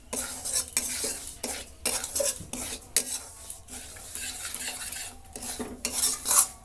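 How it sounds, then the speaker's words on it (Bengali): Semolina fries in ghee in a pan while a spoon stirs it, scraping and clinking steadily against the metal over a soft sizzle, close up and without talk. "লাল লাল করে ঘি দিয়ে সুজিটা ভেজে নেবো।"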